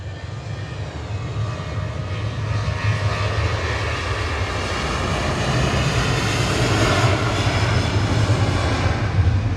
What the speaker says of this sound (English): Ryanair departing to Copenhagen.